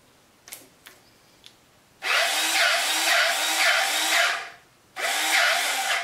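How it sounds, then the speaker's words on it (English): A grease gun pumps grease into newly installed zerks on an EG360 mini skid steer, giving two sustained, loud pumping bursts with a rhythmic pulsing texture, the second starting after a brief pause and preceded by a few faint clicks. "now that I've got those grease zerks installed, let's see if I can grease them"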